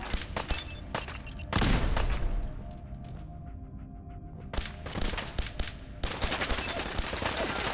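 Gunfire in the modded video game Fallout 4: rapid bursts of automatic fire in clustered volleys, with a heavy sustained barrage early on, a quieter lull, then renewed close, sharp shots toward the end.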